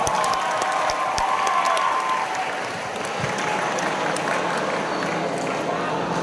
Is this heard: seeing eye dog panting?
no